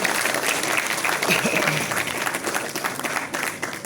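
Enthusiastic audience clapping at a Hindi interview program, a steady crowd applause running for several seconds with voices talking over it.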